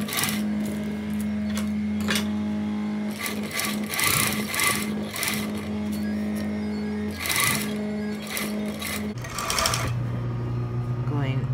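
A sewing machine stitches a J stitch on a mock fly in bursts of rapid mechanical whirring separated by pauses, with fabric handling and soft rustling between runs.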